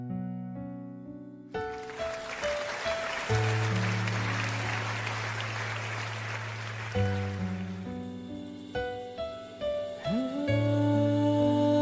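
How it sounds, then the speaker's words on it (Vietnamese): A studio audience at a Vietnamese televised singing contest claps to welcome a contestant: a dense burst of applause that swells and then fades, mixed with loud stage music. "Một tràng pháo tay để đón chào thí sinh Phương Mai"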